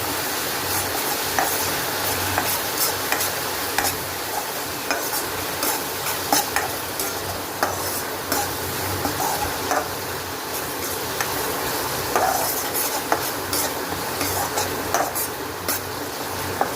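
A spoon stirs onion, green chilli and curry leaves frying in a pan for an Agri-Koli crab curry, with a constant close sizzle and regular scraping, tapping clinks against the metal, and no voices.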